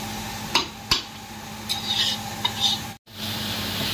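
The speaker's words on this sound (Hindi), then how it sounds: "अभी इसको थोड़ा देर फ्राई करेंगे" Onion with garlic-ginger paste and chili paste frying in a large pot for chicken curry, stirred with a spoon that scrapes and clinks against the metal several times over a steady sizzle, close up and with no talk.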